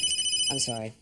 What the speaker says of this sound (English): Oh, God, that's my phone.